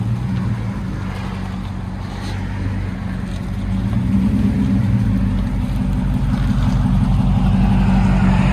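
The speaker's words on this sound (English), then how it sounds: "Black Widow race Venom, 5-inch tips, 3-inch pipe in the middle. Just gives it a really nice deep tone." A 2010 Dodge Ram 1500 5.7L HEMI V8 with a Black Widow Race Venom dual exhaust, 5-inch tips, rumbles deep and close, a steady low burble that swells in volume partway through and holds.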